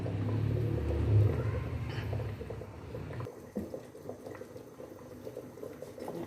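Beef paya yakhni, a trotter broth, bubbles at a continuous rolling boil in a cooking pot, a close, steady churning with a low rumble underneath and no voices.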